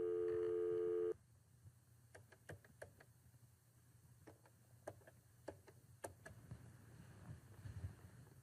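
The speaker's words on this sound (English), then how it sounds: "I'm dialing the phone number." A telephone number being dialed. A steady dial tone cuts off, then a series of faint, irregular clicks and ticks follow over a low background hum.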